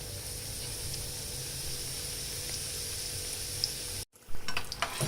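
Chicken parcel samosas deep-fry in hot oil for a second round, giving a steady, even sizzle throughout, broken by a brief cut near the end before clattering, bubbling sounds return.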